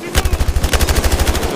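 A light machine gun fires in Battlefield Hardline, a loud, close, rapid burst of evenly spaced shots at a high rate of fire that runs the whole moment without pause.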